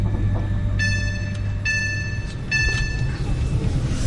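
The 7:45 passenger train to Manchester Piccadilly runs with a steady low rumble inside the carriage, while a two-tone chime sounds three times in quick succession.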